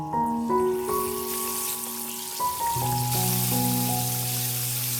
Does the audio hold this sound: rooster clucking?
no